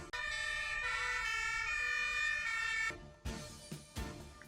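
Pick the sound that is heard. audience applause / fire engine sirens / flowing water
fire engine sirens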